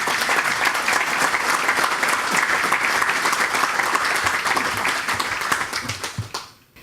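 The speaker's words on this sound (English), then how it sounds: "Can we just give them a round of applause because they've been awesome." Sustained applause from a conference audience at a community Landcare gathering, dense and steady for several seconds before tapering off quickly at the end, with no talk over it.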